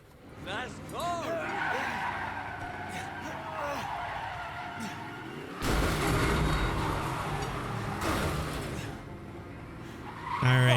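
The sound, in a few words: car skidding in Resident Evil 7 video game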